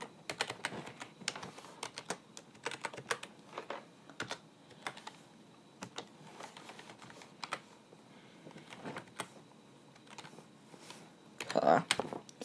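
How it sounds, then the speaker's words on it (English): Keys on a computer keyboard clatter in quick irregular bursts of typing with short pauses between them, close and clear, with no speech over it. "I'm just gonna type in my name."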